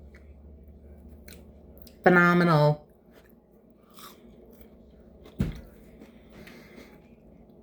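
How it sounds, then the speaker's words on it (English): Someone bites into crunchy battered fried cucuzza flowers; a loud crisp bite is followed by quieter crunching and chewing, with a brief spoken word. "And then just the crunch from the batter and then the salt just brightens up all the flavors."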